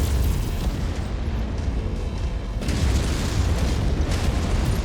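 Weapon fire and explosions from battling mechs in the PC game MechWarrior 5: Mercenaries, a dense continuous roar of blasts and booms, loud and rumbling throughout with no talk.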